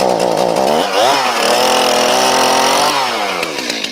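A power saw's small engine roars close and loud after starting, its pitch revving up and down steadily for several seconds with no talking.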